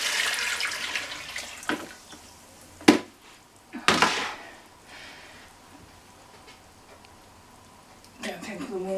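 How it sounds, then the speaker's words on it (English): Sugar water is poured in while making pumpkin and raspberry wines, giving short splashy bursts and sloshing pours among quieter pauses, with clatter at the end. "So you put the sugar water in."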